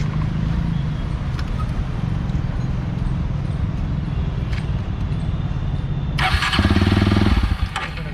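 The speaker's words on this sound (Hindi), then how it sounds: "तो आपको एक बार अब इसकी साइलेंसर की आवाज़ भी सुना देता हूँ मैं" Motorcycle engine idling with a steady, rumbling exhaust note close by, then a brief sharper burst of revving near the end.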